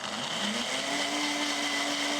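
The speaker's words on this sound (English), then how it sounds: "we're only going to blend this for maybe 10 seconds or until we no longer see those little cottage cheese curdles" A kitchen blender whirs steadily while blending cottage cheese and eggs for an omelet, a constant loud motor hum with a high whine that holds without pause.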